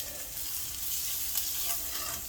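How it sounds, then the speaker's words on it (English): Onions sauteing in a hot pan give a steady, close sizzle of fine crackling hiss that holds evenly throughout, with no voices. "sauteing some onions right now"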